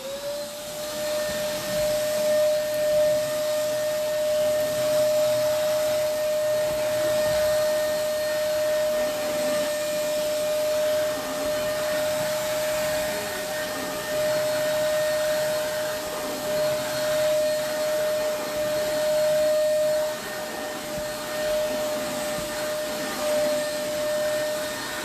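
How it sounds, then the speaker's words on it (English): Vacuum cleaner running steadily throughout with a loud, constant motor whine and broadband rushing airflow, close to the listener, with no one speaking. "Let's vacuum this."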